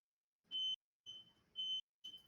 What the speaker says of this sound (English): And I just set off the smoke alarm.